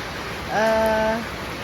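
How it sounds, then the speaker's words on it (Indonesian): Rain falls at a night market in Sambong, Blora, as a steady hiss of even noise throughout, with a brief voice sounding in the middle. "Kondisi hujan."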